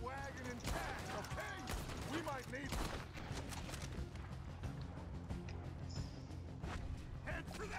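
Rapid hip-fire gunshots from Red Dead Redemption 2 crack in a dense, busy stream of overlapping shots and mechanical clatter, heard under a speaking voice.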